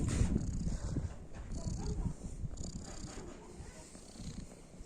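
A cat purrs close up, a low rumbling rhythm continuing steadily, with faint background noise.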